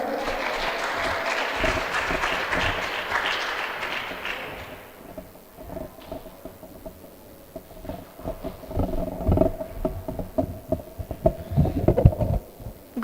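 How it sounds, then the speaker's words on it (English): An audience at a school exhibition applauding, a dense wash of clapping for several seconds that fades out, followed by scattered handling thumps and low room noise. "please welcome Darren and Mylene with gender equality with a round of applause"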